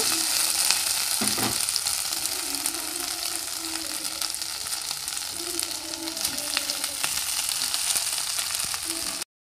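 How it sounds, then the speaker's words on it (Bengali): Vegetables and boiled chowmein noodles stir-frying for restaurant-style chicken chowmein, a steady loud sizzle with scraping stirs and knocks of a spatula throughout, ending abruptly. "এবার এর মধ্যে আমি সেদ্ধ করে রাখা চাউমিনটা দিয়ে দেব।"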